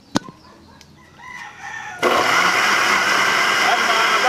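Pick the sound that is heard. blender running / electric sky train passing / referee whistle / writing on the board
blender running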